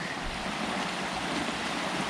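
Mountain stream at a hiking-trail water crossing on Dicey's Mill trail toward Passaconaway in icy December, a steady, full rush of flowing water close by, continuous and without talk.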